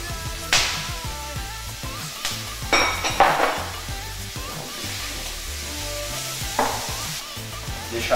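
Ground beef (patinho) with two garlic cloves browning in a pan: a steady close sizzle with occasional metallic scrapes and clinks of a utensil, under soft background music.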